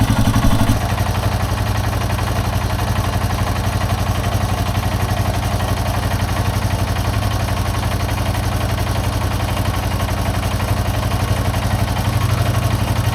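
A Yamaha TW200 dual-sport motorcycle with running issues and a suspect carburetor idles steadily, its single-cylinder engine chugging in an even, loud rhythmic pulse close by for the whole stretch, with no talk.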